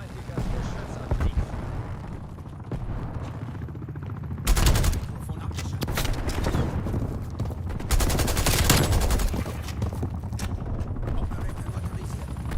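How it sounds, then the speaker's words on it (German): Sniper and other gunfire in the Call of Duty Warzone video game, bursts of shots and blasts over a constant loud battle rumble, with a player's voice talking throughout. "Oben aus dem Haus sniped er raus."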